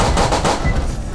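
Rapid gunfire in the horror game Edward the Man Eating, a loud, dense run of shots crowding the first half second before fading into a rumbling tail, with no talk over it.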